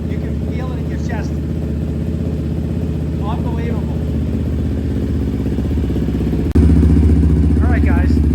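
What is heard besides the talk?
Yamaha Raptor 700 ATV engine with Dasa exhaust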